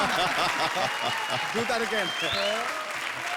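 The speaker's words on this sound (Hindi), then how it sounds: "जोरदार तालियां" A comedy show audience applauds loudly and steadily throughout, while someone talks over the clapping.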